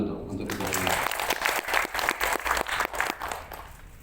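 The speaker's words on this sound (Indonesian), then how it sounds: "Tepuk tangan dulu dong untuk kita." Applause from an audience at an evening meeting of an Indonesian palm oil farmers' association, a dense burst of clapping that builds after a voice and continues, with some shouts or speech mixed in.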